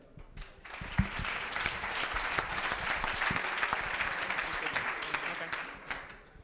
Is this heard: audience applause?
yes